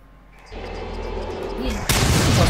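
Gunfire at barrels in the Until Dawn video game, heard as loud booming shots and a sharp blast over a dense rumbling game soundscape.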